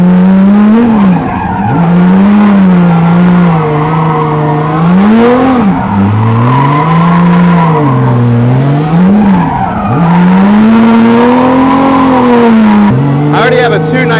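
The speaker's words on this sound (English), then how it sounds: "got the green light to do some burnouts" A car doing burnouts in a burnout box at a drift event, the engine held at high revs and wavering up and down continuously while the tires skid and squeal, loud and close throughout.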